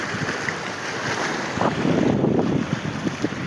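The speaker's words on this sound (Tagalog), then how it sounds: "Pero mahangin pa rin." Strong wind buffets the microphone steadily throughout on the coast at Bato, Leyte, with rushing gusts and splashing water beneath; no one speaks.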